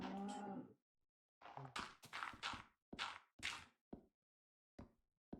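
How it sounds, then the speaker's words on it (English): A cow in Minecraft Beta 1.7.3 gives several short moos, the first longest, followed by a run of brief broken bursts and pauses, close and clear with no talk. "This stupid cow needs to get the hell out of here."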